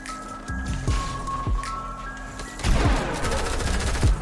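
Rapid gunfire crackles in a video game, bursts of shots and impacts layered over a steady hum, growing denser and louder in the second half.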